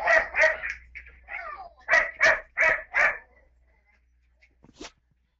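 Upset pet dog barking indoors, a close, loud burst of about eight quick barks and yips in two clusters, then a pause and one last sharp yelp.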